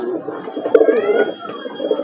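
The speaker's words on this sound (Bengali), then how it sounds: "তো এই যে এই পায়রাগুলো এনেছি" Pet pigeons in a home loft, including Najra and Phulshira males and a white-headed female, coo in low, throaty, rolling calls, close and clear, with overlapping birds murmuring steadily throughout.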